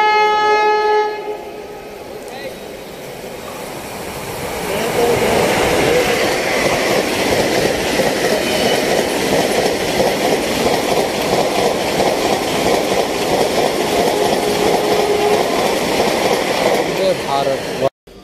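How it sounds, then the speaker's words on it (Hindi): A Vande Bharat Express running from Ambala toward New Delhi approaches and passes a railway crossing, its loud rumble and rolling wheel noise building after a quieter start and holding steady nearly throughout, with faint horn-like tones early on. "एक और क्रॉसिंग दिखाना है अम्बंदौरा नई दिल्ली वंदे भारत एक्सप्रेस का, जो कि अम्बंदौरा से आ रही है नई दिल्ली को जा रही है"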